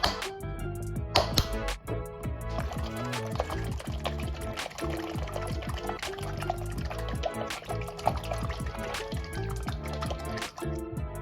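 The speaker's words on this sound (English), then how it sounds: "Then I pour the dressing into the bottom of each jar." Homemade dressing of olive oil, balsamic vinegar, Dijon mustard, salt and pepper poured into the bottoms of meal-prep jars, with close trickling and dripping liquid and clinks of glass running steadily throughout.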